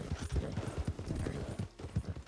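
Hooves clip-clop in a quick, steady rhythm as a horse gallops in the video game Red Dead Redemption 2. The hoofbeats are moderately loud, with no talking over them.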